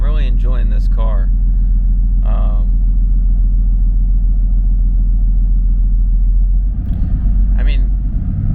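A Mercedes-AMG GT S with downpipes running after a cold start, a loud, deep, steady engine rumble held at a high idle, with someone talking over it at the start and end.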